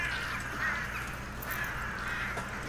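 A flock of crows in the video game Redfall keeps up harsh cawing over a constant low ambient drone, the calls overlapping in a dense, moderately loud chorus with no talking.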